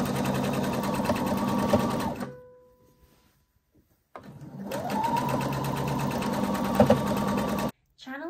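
A sewing machine stitches a channel along dress fabric in two steady bursts of running, separated by a short pause, with someone talking over the machine.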